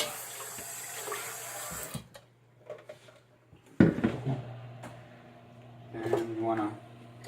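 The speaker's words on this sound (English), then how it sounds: "I'm gonna add about another 2 cups of water because this is gonna cook." Water runs from a tap and splashes into a cooking pot with clanks of cookware, as about two cups of water are added to a vegan red enchilada sauce (salsa roja) at a kitchen counter; bursts of pouring and rattling come in uneven stretches.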